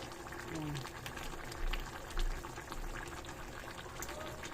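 Adobong paksiw bubbling in a pot, a steady close simmer with small popping bubbles and faint background voices.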